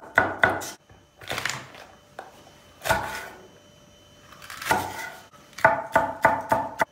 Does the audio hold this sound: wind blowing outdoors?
no